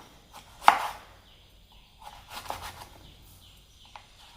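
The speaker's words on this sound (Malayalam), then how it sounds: "ഇത് അരിഞ്ഞെടുക്കുന്നത് ഇതുപോലെ നീളത്തിൽ തന്നെ അരിയണം." Vegetables for a Delhi salad are sliced thin lengthwise with a knife, giving a few scattered, soft board taps, one sharper knock early on, fairly quiet and close.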